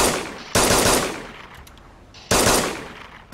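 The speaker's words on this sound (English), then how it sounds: "I'm gonna have to shoot this guy." Two loud, close bursts of video game gunfire during a chase near docks, each a sharp broadband blast that decays over about a second, with a short pause between them and no talk.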